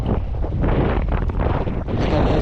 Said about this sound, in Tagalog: Lakas. Grabe, mahangin.